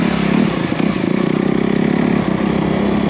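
A Honda CRF250R dirt bike engine on a ride holds a loud, close buzzing drone with a steady pulsing rhythm, easing briefly and then returning at a similar pitch, with no talk.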